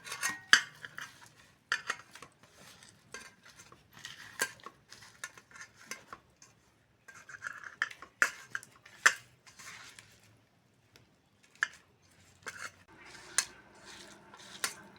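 Eggplant bharta being mashed with salt, chili, onion and garlic: close, irregular bursts of wet squishing, clicks and scraping, with short pauses in between and no talking.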